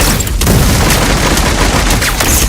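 Grenade blast and rapid gunfire in an online multiplayer shooter game, loud dense bursts of shots and booms packed together with no pauses, close and continuous.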